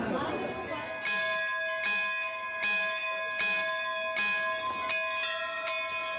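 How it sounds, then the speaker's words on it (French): Temple bells in India ring out in a steady series of about seven strikes, each clear metallic tone lingering and overlapping into the next. "Ces cloches doivent sonner fort et loin pour colporter de bons présages."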